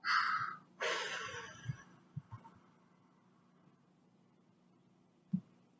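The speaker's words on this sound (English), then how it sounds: "let's blow out a lot of air and make the pinwheel spin really fast" Two hard, forceful breaths of air are blown out one after another to spin a pinwheel, each a loud, breathy rush, followed by a few small soft taps and quiet breathing.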